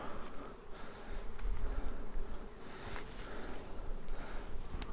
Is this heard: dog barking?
no